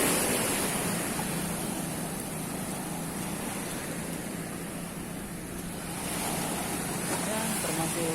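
Ocean surf rolls in at Klayar beach in Pacitan, East Java, a continuous broadband wash of breaking waves mixed with gusty wind buffeting the microphone, with faint voices in the background.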